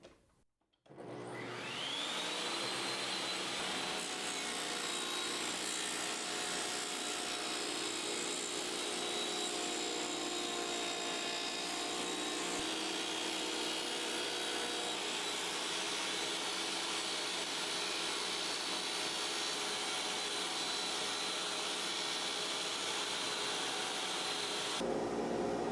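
A Bosch GTS15-10 table saw spins up and cuts 3/4 inch plywood with a loud, steady whining roar that holds almost unchanged for over twenty seconds, with no voices.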